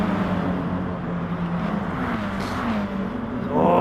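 Race cars in the racing game Gran Turismo Sport roar steadily in a continuous engine drone, with a pitch shift near the end as one car passes close.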